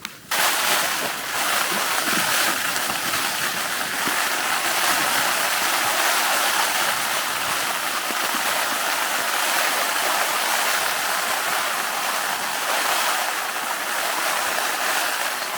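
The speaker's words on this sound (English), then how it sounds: "Just lots of rain still coming in the venter slightly." Heavy rain pours steadily onto a tent at night during wild camping in the Yorkshire Dales, a dense, loud hiss of drumming drops that never lets up.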